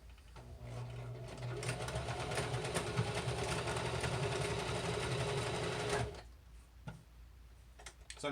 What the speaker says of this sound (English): I'm going to pull the pants to the side as I hit the reverse button, and that will sew it back and forth